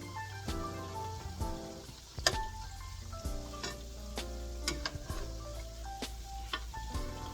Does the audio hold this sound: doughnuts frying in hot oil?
yes